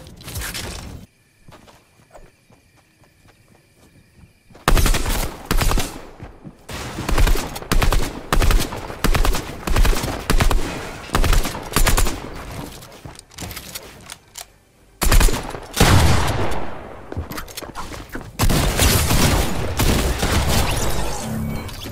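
Rapid bursts of Fortnite gunfire in a shooter match, loud repeated volleys of shots in clusters with brief quieter gaps between, ending in a sustained stretch of firing.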